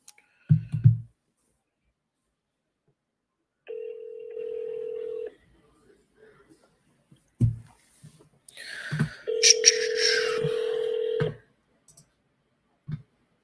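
Telephone dialing on speakerphone: short keypad tones and clicks, then a dial tone and a longer ringback tone, with brief pauses and faint clicks between, fairly quiet and heard alone.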